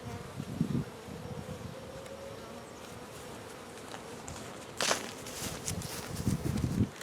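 Constant buzzing of many bees close by at an opened hive in cold weather, with occasional rustles and soft knocks of handling mixed in.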